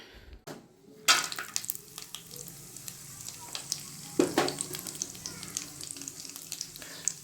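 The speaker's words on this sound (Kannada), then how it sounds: "ಗೋಡಂಬಿ, ಬಾದಾಮು, ತುಪ್ಪ ಫ್ರೈ ಮಾಡಿಕೊಳ್ಳಬೇಕು" Cashews and almonds frying in ghee in a pan for pumpkin halwa, a close, continuous sizzle with the clatter of stirring and a few sharp pops and scrapes.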